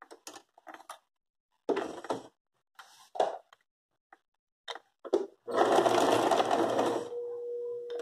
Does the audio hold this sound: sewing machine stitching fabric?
yes